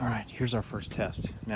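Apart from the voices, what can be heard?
No everyday noise stands out behind the speech.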